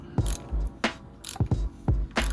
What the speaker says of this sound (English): I'm not gonna go to town on tightening this with the oil filter wrench